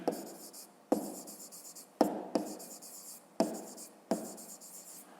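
Handwriting on paper during a maths exercise, with close, faint scratchy pen strokes in short bursts, each beginning with a light tap of the pen and separated by brief pauses.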